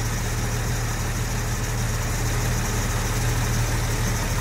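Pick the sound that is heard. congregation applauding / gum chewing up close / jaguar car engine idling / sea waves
jaguar car engine idling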